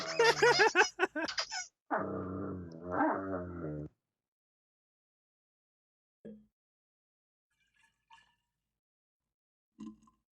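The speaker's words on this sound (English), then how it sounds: "of course the dogs want to fight right now" Dogs fight, giving loud, close yelps and whimpers for about four seconds, then fall almost silent apart from a few faint, brief sounds.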